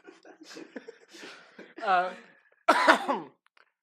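A person coughs and clears their throat a few times, close and somewhat strained, amid breathy vocal sounds.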